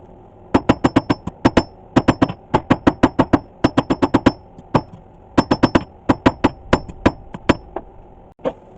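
Hammer striking a knife bar on an anvil during forging, a long series of sharp ringing metallic blows in quick rhythmic clusters, close and loud.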